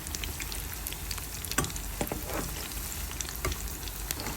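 Potato chops frying in hot oil as a home-made iftar snack, giving a steady, close sizzle with scattered crackling pops throughout and no talking.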